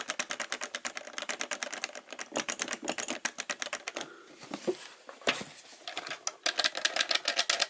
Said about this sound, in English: Oh, this is definitely clicky.